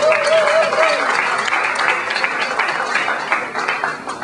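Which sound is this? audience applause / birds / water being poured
audience applause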